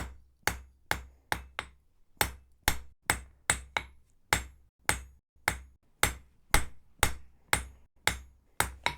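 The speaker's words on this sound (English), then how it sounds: "So this anvil here, whenever you're hammering, the hammer bounces." A heritage blacksmith hammering hot metal on an anvil at a forge, a steady run of sharp ringing strikes, close and clear, with short bouncing double taps and brief pauses between groups.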